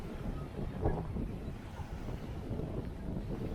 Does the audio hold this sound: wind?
yes